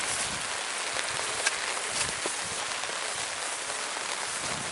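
Steady rain falling outdoors on a rural homestead, a dense even hiss of drops on surfaces with a few slightly louder spatters, continuous and moderately close with no talk.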